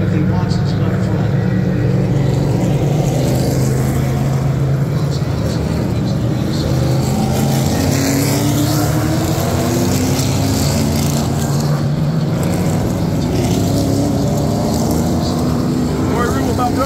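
Outlaw stock race cars roar past on the front stretch, a loud, sustained engine drone with rising and falling pitch as the field passes, with commentary voices over it.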